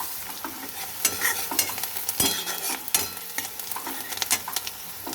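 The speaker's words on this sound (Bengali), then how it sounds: "এবার আমি পেঁয়াজটা একটু ভেজে নেব।" Onions frying in a pan with cinnamon and cardamom, stirred with a spatula: a close, steady sizzle broken by repeated scraping and clinking strokes.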